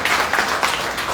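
An audience at a Modicare training session claps steadily, a dense, even wash of many hands with no pauses through the brief stretch.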